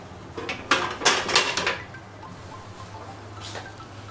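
A spoon scrapes and clinks against a pot while chicken stew is stirred, with a short burst of close metallic clatter followed by quieter scraping and no talking.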